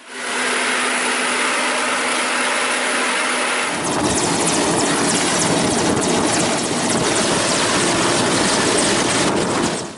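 A helicopter landing at a helipad, its loud, steady rotor and engine roar filling the air, growing heavier and closer partway through.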